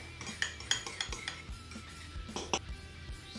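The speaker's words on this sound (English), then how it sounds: "And then we stir." A utensil stirs remoulade sauce with hot sauce, grated garlic and black pepper in a bowl, producing quiet, close clinks and taps against the side in an irregular rhythm.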